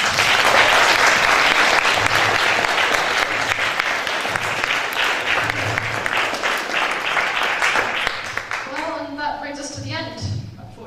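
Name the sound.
audience round of applause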